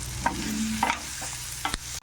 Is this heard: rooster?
no